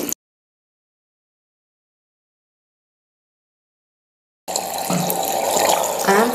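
Tap water runs into a sink while a makeup brush is rinsed, a steady splashing stream that starts abruptly after a long silence and continues close and moderately loud to the end.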